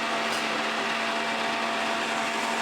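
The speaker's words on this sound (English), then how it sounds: "the Vitamix did stall because it was so thick" A Vitamix blender churns a thick mixture of aquafaba and spices with a steady, loud, continuous whir and a strong motor hum, running alone throughout.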